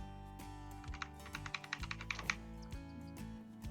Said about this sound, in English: press E on the keyboard